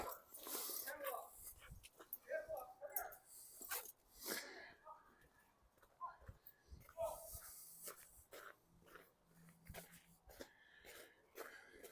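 A friendly dog met while walking along 13th Avenue in Regina on a November Sunday, giving brief sniffs and whimpers amid street noise while people talk over it.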